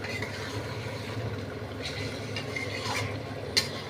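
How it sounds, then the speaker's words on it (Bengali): Chicken sautéed over full flame for a rich shahi gravy sizzles in a steady, dense hiss, with occasional spoon scrapes and a sharp metal tap near the end, close by. "ফুল আঁচে এবার আমি কষবো"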